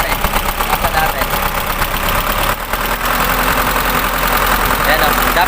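An Isuzu 4HL1 truck diesel engine revs under acceleration with a rough, shaky vibration, a loud close steady drone that dips briefly and then builds again.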